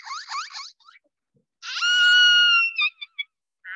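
A pet parrot imitates a car alarm, giving sharp warbling chirps and then a long loud rising electronic-style tone followed by several short bursts, close and piercing with no talk.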